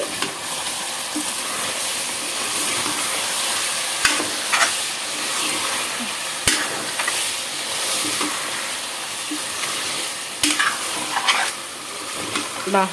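Chicken and mango curry sizzling and frying steadily in a pan, with intermittent scraping of a spoon as it is stirred, and a few sharp clinks against the pan.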